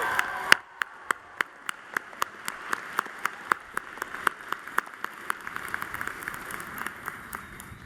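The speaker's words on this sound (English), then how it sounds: "Can we give them another round of applause" At a college commencement ceremony in an arena, applause for the musicians comes as steady, evenly spaced sharp claps standing out over a softer, spread-out crowd wash.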